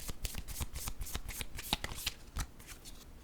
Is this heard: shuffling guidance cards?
yes